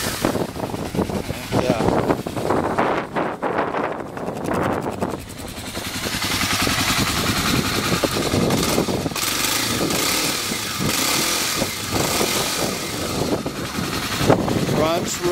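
2010 Kawasaki KLX250SF carbureted supermoto engine cranking on the starter, catching and settling into a steady close idle, loud and continuous.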